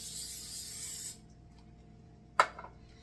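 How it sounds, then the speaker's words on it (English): Cooking spray hissing from a can onto a 13 by 9 cake pan, one steady spray burst for about a second, then a short sharp clatter as the pan or can is set down. "I'm going to liberally spray it"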